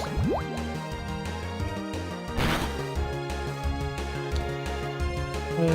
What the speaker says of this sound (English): Let's use a Water Pulse here.